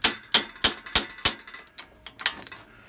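A hammer strikes a stubborn cotter pin on the crank of a Raleigh three-speed bicycle: five sharp, evenly spaced metallic blows, then a few lighter, quicker taps, close and ringing.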